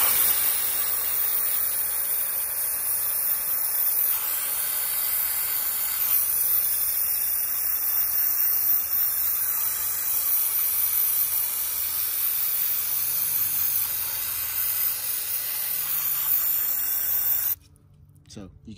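Brake cleaner sprays in a steady, loud, close hiss onto old oily engine parts, running for about seventeen seconds before cutting off abruptly.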